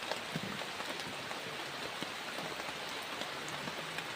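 Steady, heavy rain pours down onto surfaces as a dense, even hiss with scattered drop patters, close and continuous throughout, with no voices.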